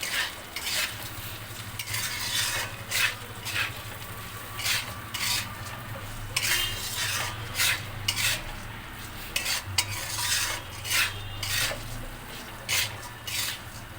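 Khichdi vegetables with salt are stirred in a pot, rhythmic scraping strokes of a spoon repeating every second or so over a low continuous hum and light sizzle.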